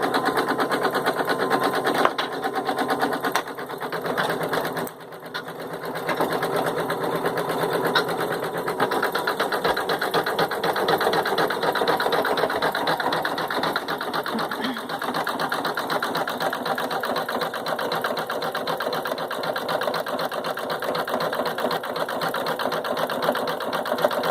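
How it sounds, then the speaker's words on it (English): An embroidery machine stitches out a satin stitch on the pocket of an in-the-hoop face mask, a steady, fast, loud mechanical whirr running continuously with no talk. "now the final satin stitch for the pocket is going to stitch out"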